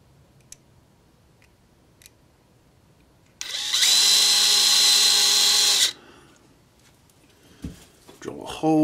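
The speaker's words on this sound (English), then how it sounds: "I'll just use my regular drill." A regular power drill bores a hole in one loud, steady burst of about two seconds, with quiet handling clicks and knocks before and after.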